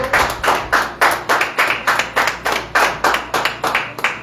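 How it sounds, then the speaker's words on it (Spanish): A congregation at a church service claps in unison, a loud, steady rhythmic beat of about three claps per second, close and alone without talk. "démosle un aplauso a Cristo"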